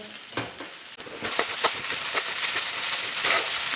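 Sago wafers frying in hot oil in a pan, a steady loud sizzle running throughout with occasional scraping stirs, no talk.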